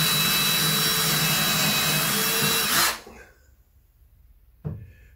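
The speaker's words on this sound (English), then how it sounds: "what I have to do is put 2 pilot holes down through here" A power drill bores pilot holes through a T-bracket into wood for a wall mount. It whines loudly and steadily for about three seconds, then stops, and a short burst of drilling follows.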